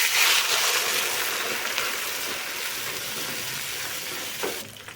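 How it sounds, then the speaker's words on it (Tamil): Ground coriander paste hits a hot pan and sizzles loudly, a bright crackling hiss that eases slightly as it keeps frying, with a light clink near the end. "அரைச்சி வச்சுருக்க மல்லித்தலை பேஸ்ட் சேர்த்துக்கலாம்"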